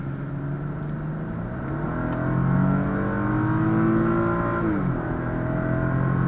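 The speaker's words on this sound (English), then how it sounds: "Hopefully right here I could show you a little bit of the performance and acceleration on this vehicle" A 2012 Infiniti G25 accelerating on the road, engine note climbing steadily from inside the cabin, rising in pitch before a gear shift drops it and the pull continues.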